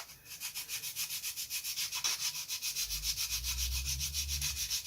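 Sandpaper rubs rhythmically along the leading edge of a wooden model aircraft wing for a WW1 Airco DH2 build, with quick, even back-and-forth strokes, close and fairly soft, about three per second.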